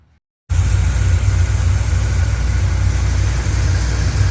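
A C3 Corvette V8 fitted with a new clutch fan cranks and catches after a brief silence, then settles into a loud, steady, close idle with a deep rumble, no voices.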